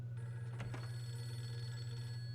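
A telephone rings at home in a haunted-house horror game, a steady electronic bell tone under a constant low hum, with one brief louder burst early on.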